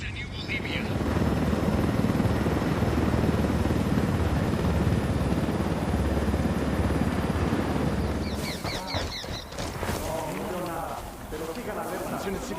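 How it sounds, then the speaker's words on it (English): A drone in the Ghost Recon Wildlands video game hovers with a steady rotor-like whir throughout, with voices talking over it toward the end. "Drone is airborne."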